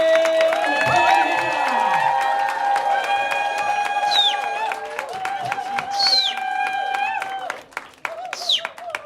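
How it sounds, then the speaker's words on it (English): Audience applause and cheering greet a poet taking the stage at a spoken word poetry night, with a layered crowd roar, sharp whoops and whistles rising over steady clapping that thins toward the end. "Please start the round of applause from now for the one, the only,"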